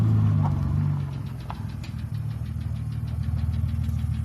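A Nissan VG33 engine with crankwalk runs steadily close by, a low, dense rumble with a fast, even pulsing rhythm that holds loud for the whole stretch, with no talk over it.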